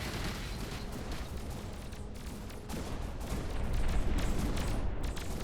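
Battleships firing small missiles in the space strategy game Annihilate The Spance, a faint, steady rumble of overlapping launches and distant blasts with no speech.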